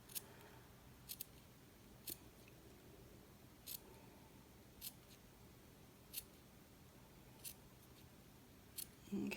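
Scissors snip through knit fabric in a quiet room, short crisp cuts spaced roughly a second apart, with a slightly quicker double snip near the start and a handling rustle at the end.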